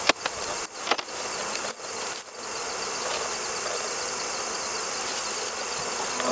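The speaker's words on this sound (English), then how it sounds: "I'll smoke the bees to get them down in." A dense, loud buzz of many honey bees at an open hive swarms close by, a continuous droning hum after a few brief knocks at the start.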